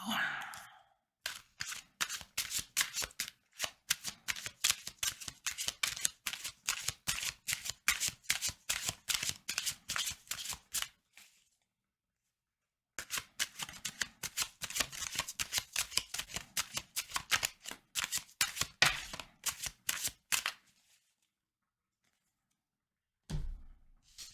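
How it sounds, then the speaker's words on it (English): Tarot cards shuffled close up in long runs of rapid, crisp flicking riffles, stopping for a couple of brief silent pauses, with no talking. "So let's pull a card for those of you that don't have Love Street right now."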